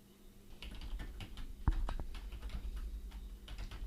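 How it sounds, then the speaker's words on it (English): Typing on a mobile device, a run of quiet close taps in irregular rhythm with one sharper click partway through, over low room hiss. "if I type something in over on the mobile device"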